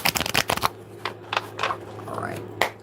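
Tarot cards are shuffled by hand in quick riffling bursts, a rapid run of crisp flutters followed by several separate slides and taps, close and clear over a low steady hum.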